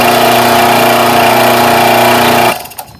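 An air compressor motor, plugged in without a closing valve, hums loudly and steadily with a strong mechanical drone for about two and a half seconds, then cuts out abruptly as it trips, leaving only faint clicks.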